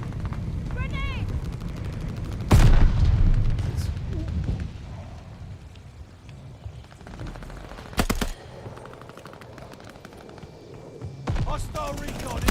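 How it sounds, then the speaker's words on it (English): A grenade blast in Call of Duty: Vanguard bursts loud and close, then a second sharp explosion follows later amid scattered gunfire, battlefield noise and in-game voice callouts. "Grenade!"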